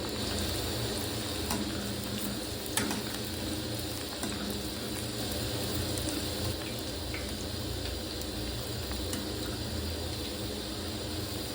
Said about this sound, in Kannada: ಮೀಡಿಯಂ ಫ್ಲೇಮಲ್ಲಿ ಫ್ರೈ ಮಾಡಿ.